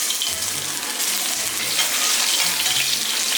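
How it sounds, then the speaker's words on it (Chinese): Shiitake mushrooms fry in melted lard in a hot wok, a loud, dense, continuous hiss with faint low knocks from the pan, heard up close. "猪油烧融化，下香菇、"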